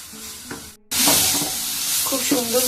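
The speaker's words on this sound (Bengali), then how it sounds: "মশলা আমি কষিয়ে নিচ্ছি।" Masala sautés in a pan with a loud, steady sizzle that starts abruptly after a brief silence, with stirring scrapes underneath and faint speech at the start.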